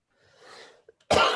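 A single sneeze: a soft breathy intake followed by a sharp, loud burst of noise, close by and alone with no talking.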